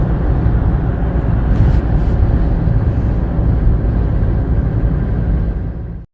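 A hire car is driven along the motorway into Christchurch, New Zealand. Loud, constant road and engine rumble with tyre roar fills the recording from inside the car, with no speech.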